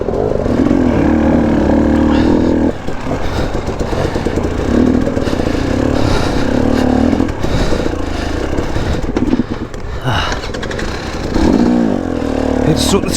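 A KTM 250 dirt bike ridden along a muddy trail, engine loud and close, revving and bogging in bursts with clattering and scraping, and a voice briefly heard over it.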